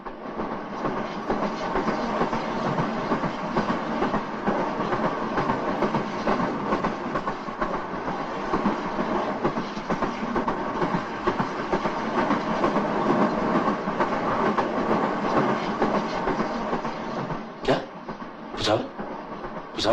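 Rail carriages clatter steadily along the tracks with a continuous loud rumble and rolling clickety-clack, heard from inside the train, with a few sharper knocks near the end.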